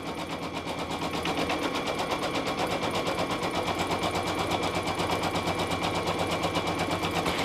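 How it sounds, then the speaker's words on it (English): An embroidery machine stitches out the placement line for a glitter applique patch, a steady rapid mechanical chatter of the needle running loud and continuous throughout with no talking. "I'm going to hit start, and it's going to stitch out the first step, which is the placement line for the patch"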